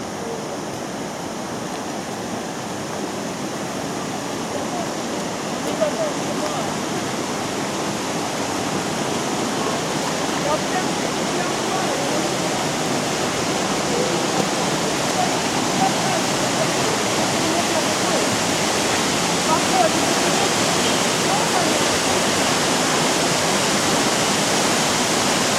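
Small Chegem waterfall in the Chegem gorge pours with a steady, loud broadband roar of falling water, unbroken and close, swelling slightly toward the end, with no clear speech over it.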